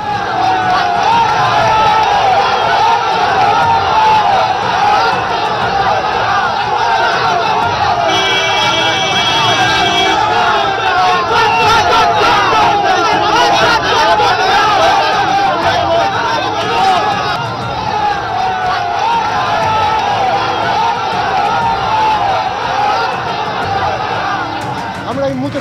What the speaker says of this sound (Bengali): বিরোধী দলনেতাকে উদ্দেশ্য করে চোর চোর স্লোগান দিতে দেখা গেল তৃণমূলকে